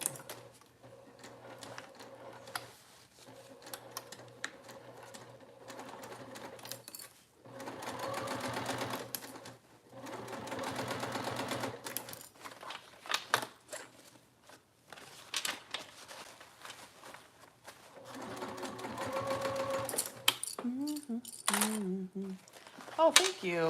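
Sewing machine stitching binding onto fabric seams, intermittent runs of quick, fairly faint mechanical whirring separated by pauses, with a person talking softly in between.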